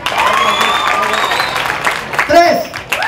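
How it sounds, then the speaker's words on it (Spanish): Applause and cheering greet contestant number four at an outdoor arts fair, a crowd clapping and shouting beneath a loud voice that talks and calls out over it. "¡Aplauso y escándalo para mi amiga número cuatro!"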